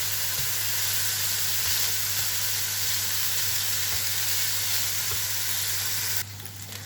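Frozen vegetables and ham for fried rice fry loudly in a pan, with a dense, steady sizzle that holds almost unchanged throughout and drops slightly in level near the end.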